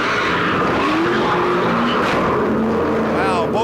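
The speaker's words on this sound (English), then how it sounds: "And then the 84 himself goes for a slide and a spin" A race car in a stock car race slides and spins, its engine roaring loudly and steadily throughout with tire skid noise mixed in, while a commentator talks over it.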